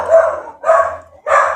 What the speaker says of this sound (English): I might have to kick that dog outside